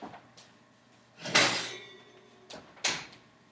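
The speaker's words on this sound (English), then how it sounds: "so let's get it out of the oven" A kitchen oven door is opened to take out a baked Charleston cheese dip, giving a few soft knocks, then a rushing creak and a second thud, fairly quiet and close.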